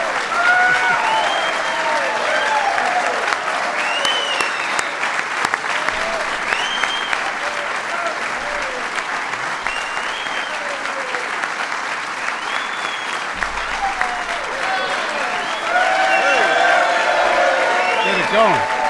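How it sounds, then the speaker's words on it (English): A packed room of people applauds at President Obama's signing of the health reform bill into law, sustained loud clapping for nearly twenty seconds with scattered cheers and voices mixed into the steady roar. "We're going to let him clap a little bit."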